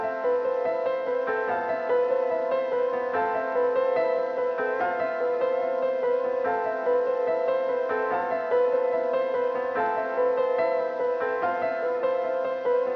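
A gentle piano melody plays continuously with a soft, washed reverb tail, notes blending into a warm, slightly old-sounding haze; no voices.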